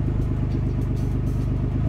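An older Japanese car fitted with a Fujitsubo sports muffler idles up close, giving a steady, deep, throbbing exhaust rumble with a regular low pulse throughout.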